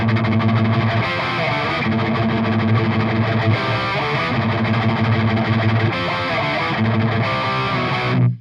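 Heavily distorted metal guitar riffing through an ENGL E670 Special Edition amp with mid boost and depth boost engaged, a loud, dense, continuous wall of chugging rhythm with no talking.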